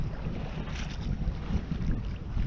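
Sailboat moving under sail through a narrow channel near the Swedish coast, with steady wind buffeting and water rushing along the hull, a continuous close broadband wash without any talk.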